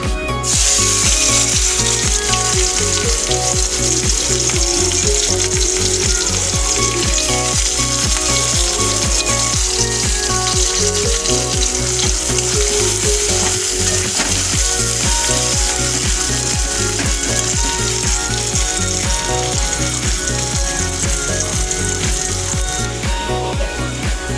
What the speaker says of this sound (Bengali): কড়াতে তেল গরম হয়ে গেছে, আমি এখানে একটু কালো জিরে ফোড়ন দেবো